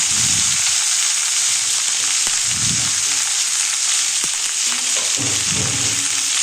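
Drumstick (sajne) pieces sizzle steadily in hot oil in a pan, a continuous frying hiss with a few soft stirring scrapes and thumps, no talking.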